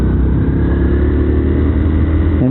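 A motorcycle engine revs hard and continuously at close range while riding on a road, its steady roar filling the whole stretch with a brief shift in pitch near the end.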